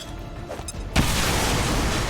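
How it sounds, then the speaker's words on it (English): A grenade detonates in the XCOM strategy game: a sudden loud boom about a second in, followed by a sustained roaring wash of debris and rumble. "Can't get a shot at him, but maybe I can clip him with a grenade."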